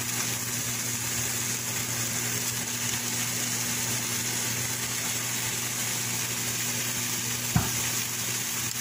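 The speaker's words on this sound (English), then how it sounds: "You hear those eggs popping in there?" Steady, fairly quiet sizzling of eggs and ham frying in a pan, with a low background hum and one brief knock near the end.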